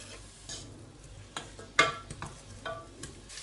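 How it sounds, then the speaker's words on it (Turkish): Soft sizzling of chopped onion frying in oil in a pan, with occasional stirring scrapes and clicks, steady and close without any talking. "Bir tane kuru soğanı yemeklik doğrayıp yağda kavurun."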